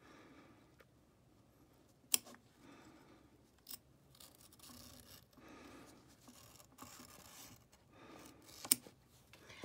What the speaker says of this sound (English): now we're going to cut down one side